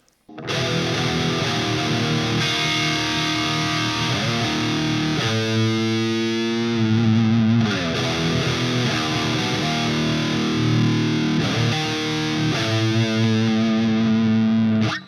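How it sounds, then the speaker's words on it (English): Distorted electric guitar run through a chorus pedal into the amp's front end, with a shimmering, swirling chorus effect, sustained chords and a few melodic bends played continuously for about fifteen seconds. "we'll just run the chorus through the front end of the amp and see how that sounds"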